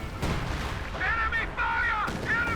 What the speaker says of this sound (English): More artillery fire there, more rockets, more death, buildings collapsing.